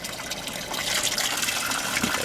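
Water gushes and gurgles steadily as it drains through a bell siphon in a homemade lava rock aquaponic garden, a continuous near rushing flow.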